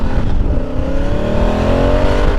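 Honda Africa Twin motorcycle engine revving up, a loud continuous roar with rising harmonic pitch, close and steady with no talk.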